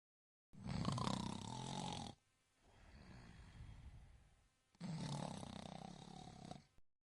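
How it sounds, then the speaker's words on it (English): A person snoring, two loud rasping inhalations separated by a quieter breathy exhale, close and isolated with no other sound. "Snore. A sound made while sleeping, due to blocked airways."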